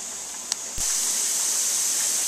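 Steam from a pressure canner processing meat streams out in a steady, loud hiss after a brief click, continuing unbroken to the end.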